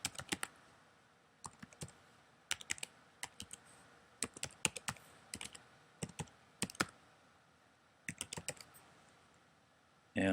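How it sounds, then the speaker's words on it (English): Fingers type quickly on a computer keyboard, a link being entered in short bursts of sharp, close clicks separated by brief pauses, with no talking over it. "I will just type the link in here quick"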